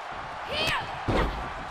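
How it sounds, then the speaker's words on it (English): A forearm club strike lands in the ring in WWE 2K23, a short sharp impact following a whooshing swing, then a second thud, with crowd noise and commentary running underneath. "what a forearm club"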